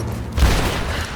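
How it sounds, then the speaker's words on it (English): Grenade blast in Rise of the Tomb Raider, a single loud, close boom that hits abruptly and rumbles out over about a second. "a grenade! Fire in the hole!"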